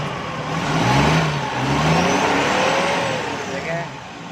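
A Suzuki Bolan van engine runs steadily after its ignition was converted from points to magnet to fix misfiring, its pitch rising and falling slightly as it revs, with voices talking over it.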